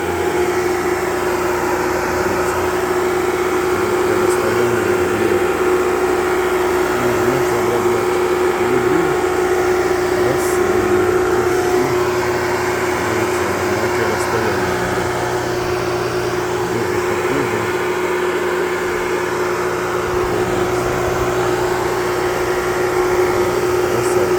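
A battery-powered sprayer with a C-Dragon turbo nozzle runs as a steady, loud motor whine with a constant hiss of spray that shifts slightly over time.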